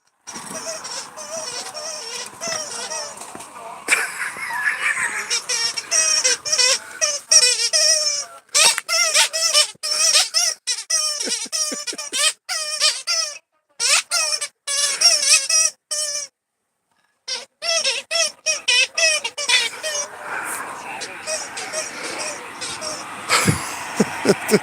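A dog plays with a squeaky toy, loud rapid squeaks in bursts and runs with short pauses between them, close by and dominating throughout.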